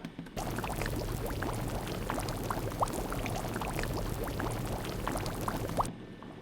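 Synthesized bubbling made with FM synthesis in a software synth, a dense, steady stream of popping, gurgling blips like boiling liquid, starting and stopping abruptly, with no talk.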